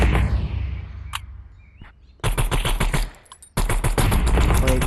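Gunfire in the VR game Gorilla Tag, with rapid bursts of loud shots in two clusters after a quieter stretch with a few faint clicks and rustles.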